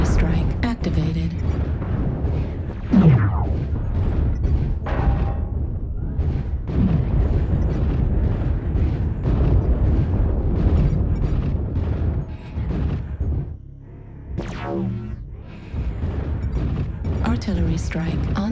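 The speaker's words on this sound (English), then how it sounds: "Artillery strike online. New target acquired. Target spotted. Artillery strike activated." Heavy booming artillery strike explosions roll through a video game battle, with dense rumbling impacts continuing almost throughout and a brief lull before more blasts, while game voice callouts speak over them.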